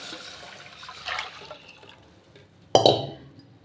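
Strained tamarind water is poured into a cooking vessel for an elephant foot yam gravy: a short splashing gush near the end, following faint trickling earlier.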